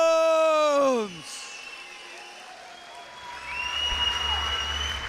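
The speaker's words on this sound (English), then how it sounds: "And a round of applause for Cesar Ignacio Paredes" A boxing crowd at a pro fight in Dagenham, Essex applauds after the decision. A sung or announced voice ends first, then the clapping comes in moderate and distant, swelling toward the end.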